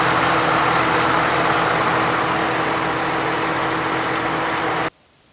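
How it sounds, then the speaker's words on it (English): A 2009 Ford Mustang's 4-liter V6 idles steadily, a constant low rumble with even hum held for several seconds before cutting off abruptly. "Under the hood is a 4-liter V6 engine."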